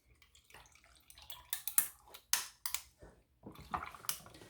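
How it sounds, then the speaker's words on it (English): Milk poured over ice cubes in a glass for dalgona coffee, close and quiet, with irregular splashing bursts and crackling of ice as the liquid hits. "After I put the ice in there, I am going to just pour milk over it."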